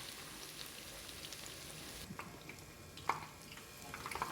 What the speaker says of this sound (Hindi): ये अब हम ऑयल में डाल के इसको फ्राई करेंगे 5 मिनट्स फ्रॉम ईच साइड।